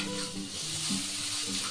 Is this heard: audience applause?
no